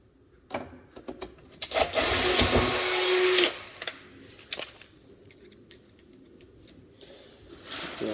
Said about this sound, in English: the next step you're going to want to do is go ahead and drill your holes